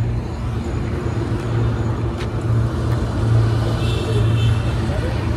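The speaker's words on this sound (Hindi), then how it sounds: "ये आगे से हाईवे रोड आ चुका है यहाँ पे," Continuous highway road traffic rumbles past a roadside workshop, a steady, loud wash of engine and tyre noise with heavier vehicles droning underneath and no break throughout.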